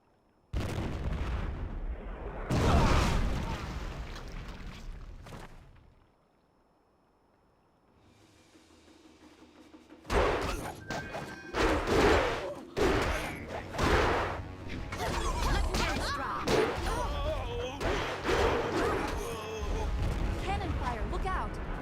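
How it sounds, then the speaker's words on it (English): Cannon fire in the video game Jade Empire: heavy booming blasts and crashes, several loud impacts in a row after a quiet lull, with game dialogue and voices mixed in over the barrage. "Cannon fire, look out!"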